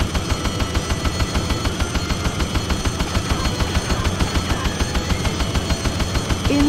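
Rapid cannon fire from a PlayStation demo game of a transforming combat jet, a steady loud mechanical stream of shots continuing without pause.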